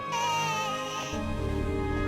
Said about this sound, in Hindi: वह आवाज किसी छोटे बच्चे के रोने की लग रही थी।